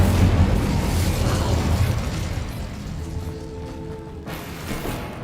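In the Hogwarts Legacy video game an Incendio fire spell goes off in a loud, broad whooshing burst that roars for about two seconds, then fades into a softer rumble with a faint tonal ring and a last flare.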